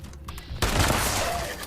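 An explosive shotgun fires in Fallout 76 against ghouls, a sudden loud crackling blast that bursts in partway through and rolls on as a dense spray of small explosions, fading only slightly toward the end.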